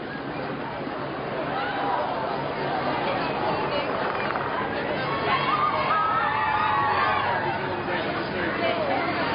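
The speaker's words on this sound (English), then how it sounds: "It doesn't take much to get a cheer." A large crowd gathered outside the Sydney Opera House cheers and chatters for the visiting royals, a continuous dense roar of voices that swells slightly toward the middle and stays loud throughout.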